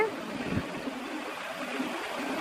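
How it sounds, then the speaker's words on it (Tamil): Boiled water pours steadily into roasted semolina for a jackfruit kesari, a continuous close hiss and gurgle of liquid with a soft bump near the start. "கொதிக்க வச்ச தண்ணியை கொஞ்சம் கொஞ்சமாக சேர்த்துக்கோங்க"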